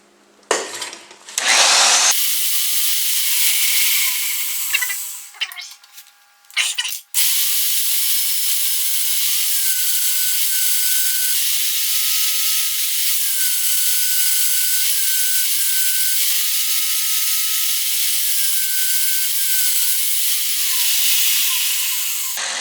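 A magnetic drill bores holes in a steel plate for a welding fabrication table. After a few rough starts, a sustained loud grinding whine runs with slight pitch shifts as the cutter works through the metal.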